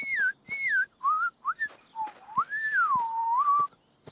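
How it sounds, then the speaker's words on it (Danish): Cartoon whistling blown through juice boxes: a run of short sliding tones, some falling and some wavering, ending in one long warbling note, near and clear over faint clicks. "I tre laver nogle interessante fløjtelyde med jeres juicebrikker."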